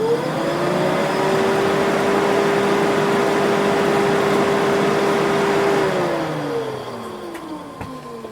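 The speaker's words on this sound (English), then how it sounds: "the engine fan's kicked in straight away because I've bridged the connection" A 1993 Ford Fiesta XR2i 16V engine cooling fan runs at a steady loud whir, its tone holding level for several seconds before winding down and fading near the end, close by with no talk.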